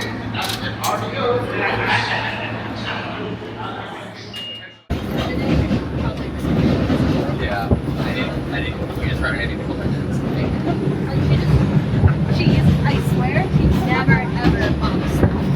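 A New York City subway train on its way to Times Square, with a steady rumbling ride and rattling under frequent talk, then a sudden cut into louder rolling noise and clatter.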